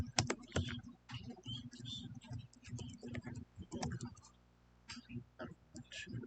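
A password being typed on a computer keyboard, with light close key taps and clicks in short irregular bursts, fairly faint, no talking over it.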